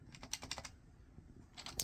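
Keys on a Strong Man SMK-8112 keyboard with scratchy, mushy linear switches are typed in a quick, uneven burst of close, soft clicks, then a short pause and a few more presses.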